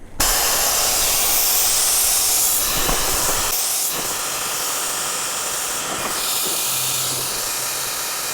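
Compressed air hissing steadily and loudly from an opened manual valve on a Thor's Lightning manifold fed by a Total Control compressor, a continuous broadband rush held for the whole stretch, close by.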